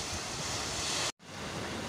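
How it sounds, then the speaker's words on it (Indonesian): Steady broadband surf from moderate ocean waves at Citarate beach in Cilograng, Lebak, on Banten's southern coast, rushes continuously and close, briefly cut off before resuming. "ombak tidak begitu besar, walaupun kita harus berhati-hati juga"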